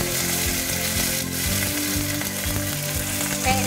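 Tadka spices spluttering in hot oil for a Bengali cauliflower curry with curry leaves: a loud, dense, continuous sizzle, close up, with crackling frying noise filling the whole stretch and no talking.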